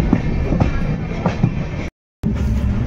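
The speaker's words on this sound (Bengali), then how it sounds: "দারভাঙ্গা থেকে আনন্দ বিহারের উদ্দেশ্যে ট্রেন বেরিয়ে পড়লো" A passenger train running from Darbhanga toward Ayodhya Dham Junction rolls along the rails with a steady rumbling clatter and periodic wheel clicks, continuous and fairly loud, broken once by a brief dropout of silence.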